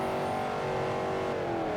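A car engine in the Forza Horizon racing video game drones loud and steady, held under light throttle with a slight shift in pitch near the end, no voices over it.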